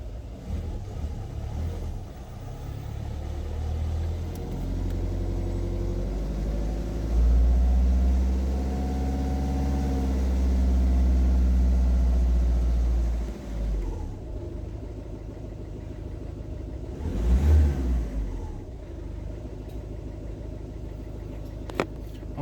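A Citroen C4 Grand Picasso engine runs after an oil change, a steady nearby idle hum that swells briefly as if revved, then settles, with a sharp knock near the end.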